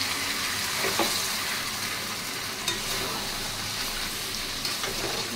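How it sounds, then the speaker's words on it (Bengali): Hot water is added to a pan of browned country chicken curry. A dense, loud sizzle and bubbling hiss fills the whole stretch, with occasional stirring clinks. There is no talk. "পুরো মাংসটা একদম কষে গেছে। গরম জল অ্যাড করছি।"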